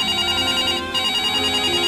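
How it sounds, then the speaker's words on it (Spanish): A telephone rings continuously and loudly, its steady bell-like tone filling the whole stretch with only a brief dip partway through, with no talking over it. "el teléfono otra vez, que así no"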